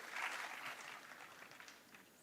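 An audience claps for a university registrar at an academic opening ceremony, a dense, steady patter of many hands that starts strong and slowly thins over a couple of seconds, heard from a moderate distance.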